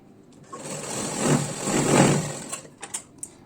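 A sewing machine stitches a slanted seam joining the front parts of a blouse, a short close whirring run that swells and fades, followed by a few light mechanical clicks.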